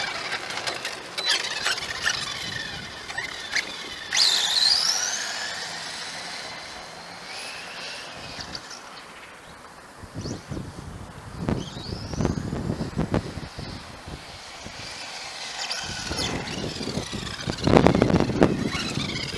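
An RC Lancia Delta HF car drives around a parking lot at roughly 70% throttle, its motor whining and rising and falling in pitch as it passes near and away, with wind noise buffeting the microphone throughout.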